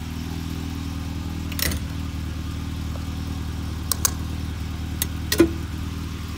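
A 1985 Volvo 240 station wagon with 317k miles runs at a steady idle, a low, even engine drone close by, with a few faint clicks and brief knocks over it and no talk.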